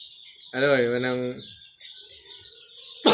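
A chicken calls once nearby in a backyard flock of about twenty-two birds, one with a cold, a short harmonic squawk followed by faint low clucking and a sharp noise at the end.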